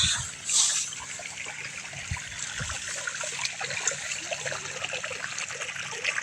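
Water trickles and gushes steadily close by as a field is watered, a continuous flowing burble with a louder splash near the start.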